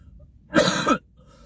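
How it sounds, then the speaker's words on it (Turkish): A single short, sharp cough close to the mic, surrounded by near silence. "Çok konuştum, öksürük tuttu."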